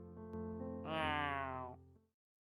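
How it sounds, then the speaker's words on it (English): A small cat cries with a single drawn-out, rising and falling meow, close and fairly loud, over a soft background hum. "I heard a tiny cat crying from beneath my legs"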